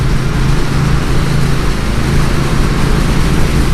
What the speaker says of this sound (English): I don't really hear the exhaust, but when I got on it, the sound is amazing